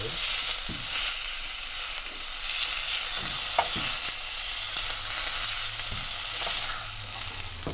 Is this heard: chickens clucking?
no